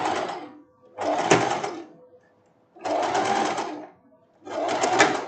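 Sewing machine stitching a rolled handkerchief hem on silk, heard in three separate runs of fast, even, rattling stitching close by, with short quiet pauses in between.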